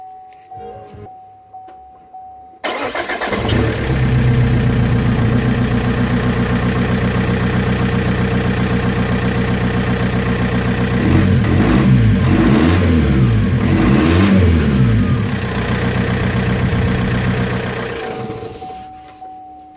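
A Vauxhall Insignia engine with no exhaust fitted starts up and runs loud and raw, rumbling steadily with a few blips of revving, close by and without talk.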